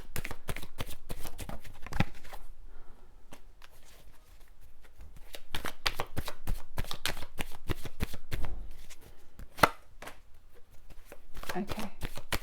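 Tarot cards being shuffled by hand, rapid crisp riffling and slapping in steady runs with brief pauses, close and clear, while someone talks softly over it.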